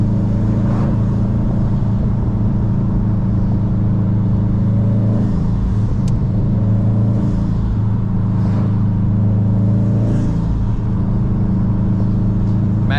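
A highly modified turbocharged car engine drones loudly and steadily from inside the car on a canyon drive, with a few swells of revving and faint turbo whooshes over the constant low rumble.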